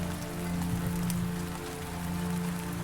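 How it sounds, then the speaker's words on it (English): Heavy rain pours down on a rough country road, a loud continuous wash of drops drumming on surfaces over a low steady hum. "the rain started to pour."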